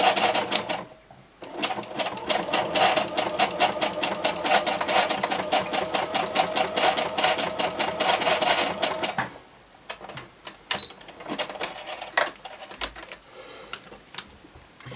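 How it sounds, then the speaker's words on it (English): A sewing machine stitches fabric in fast, even mechanical clatters for several seconds, pauses briefly, then resumes in shorter, uneven bursts, close and loud. "I'm going to lift my needle, move this across, and I'm just going to stitch that"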